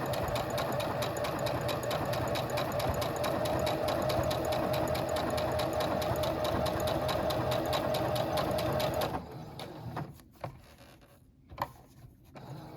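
A quiet sewing machine stitches tight curves on a doll nightgown, humming in a steady, even run for about nine seconds before stopping, leaving soft handling noises.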